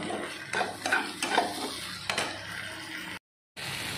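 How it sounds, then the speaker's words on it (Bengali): Chicken do piaza sautéing over a high flame, with steady sizzling and frying broken by several sharp stirring scrapes of a utensil in the pan, close and fairly loud, cutting out briefly near the end. "এটাকে একটু হাই ফ্লেমে কষিয়ে নিই।"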